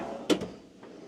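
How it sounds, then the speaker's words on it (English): A cabinet drawer in a motorhome slides and thumps shut, a quick pair of knocks followed by a fainter bump, close by and otherwise quiet. "But look at all these drawers."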